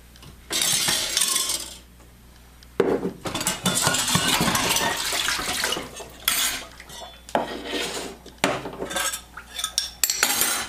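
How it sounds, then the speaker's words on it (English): Dishes, bowls, glasses and cutlery lifted out of a kitchen sink and sorted, a loud, close clatter of ceramic and silverware clinking in repeated bursts with short pauses between. "the first thing we're going to do is separate the dishes. We're going to take them out of the sink"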